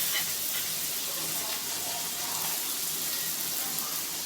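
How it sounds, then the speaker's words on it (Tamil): Carrots sautéing in a pan while Maggi noodles are cooked, a steady, even hiss of frying that holds at moderate loudness throughout with little variation. "அடுத்தது கேரட் போட்டு வதக்கிக்கலாம்."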